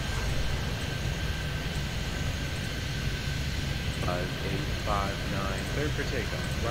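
Aircraft engines roar in the airport-control video game Airport Madness at Toronto Pearson, a steady airplane drone during takeoff, with a person talking over it partway through.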